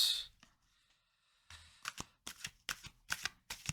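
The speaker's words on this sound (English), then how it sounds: "Let's get these alchemy cards out." Alchemy cards being handled and then shuffled, a brief rustle and then a close, rapid series of quiet riffling flutters in a quiet room.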